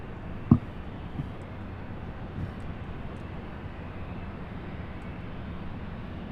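A UPS MD-11 heavy freighter rumbles at a distance, a steady low broadband roar that stays even throughout, with one brief knock near the start and no talk.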